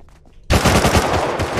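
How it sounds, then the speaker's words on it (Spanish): Loud rapid automatic gunfire from a player shooting in the survival game Rust, a sudden burst of dense shots that starts abruptly and keeps going close by. "No ves cómo dispara ese tío, ¿no?"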